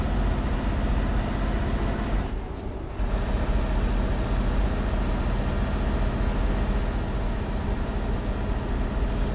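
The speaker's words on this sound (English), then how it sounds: "Alright, so here's the sounds of Euro trucks anyway." A Scania truck engine with a V8 sound mod in Euro Truck Simulator 2 drones steadily, with a constant low rumble and a faint high whine, broken by one short dip partway through.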